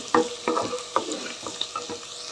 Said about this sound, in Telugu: సగ్గుబియ్యం వేసేస్తున్నా మంచిగా బాగా కలిసేలాగా కలుపుకున్నాం